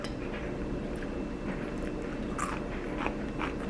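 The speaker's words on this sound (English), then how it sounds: "Listen to that crunch." Close, continuous crunching of homemade cheese crackers made from two ingredients, dense brittle snaps and chewing with no speech.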